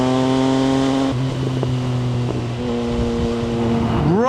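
MV Agusta Brutale 800 naked motorcycle engine, 115 horsepower, running loud and close with a steady harmonic drone, shifting pitch midway, then a sharp rev rising at the end.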